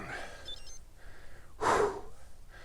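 A cow breathes up close outdoors in the Netherlands, giving one loud, broad huff of breath about midway that stands out against a faint steady background.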